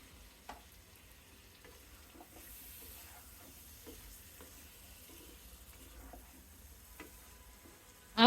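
Potatoes and sliced green chilies fry in cooked spice masala for a Bengali pointed gourd, potato and prawn dish, a faint low sizzle with scattered soft clinks from stirring and a sharper clatter at the very end.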